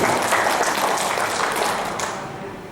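Audience applause at a ceremony in South Sumatra installing the provincial governor as chairman of an advisory council: dense, steady clapping from a sizeable crowd that fills the room, then gradually thins and fades toward the end.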